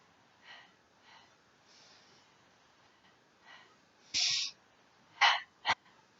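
Sharp, breathy exhales and inhales during a Pilates exercise, with faint soft breaths at first, then two or three louder, forceful puffs of air close up, with no talking.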